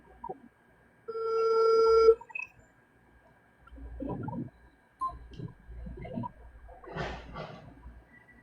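A telephone rings in one bright, steady burst of about a second and goes unanswered. Quiet voices and soft room sounds follow.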